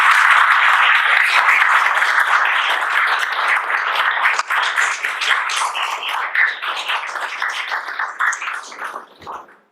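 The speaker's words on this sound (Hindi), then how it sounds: "सब लोग ताली बजाइए" Audience applauding a brilliant candidate who cracked the CG Vyapam and CGPSC PWD/WRD junior engineer exams: dense, steady clapping from many hands that slowly thins and fades toward the end, with no voices over it.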